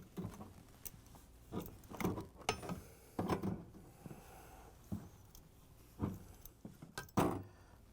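Metallic ratcheting and clicking of a 3/4 inch wrench tightening nuts on a Whirlpool/KitchenAid/Maytag water heater element, in short irregular bursts of clanks and turns, close and moderately loud with no talking.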